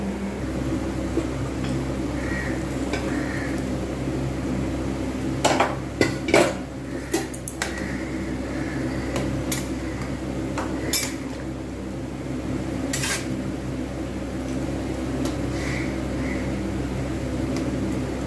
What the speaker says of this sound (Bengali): যে ভেজে রাখা সয়াবিনগুলো এবার আমি ওর মধ্যে দিয়ে দেবো